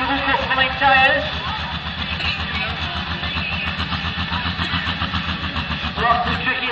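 A Case 3688 pulling tractor with a 504 cubic inch engine on double-cup pulling tyres idles with a loud, rhythmic, lumpy throb, while an announcer talks over it.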